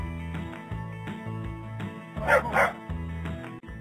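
A cartoon dog in a Baby Hazel children's animal-learning game barks several times in a rhythmic, toy-like sequence over a playful musical background, with a louder burst of yips near the end.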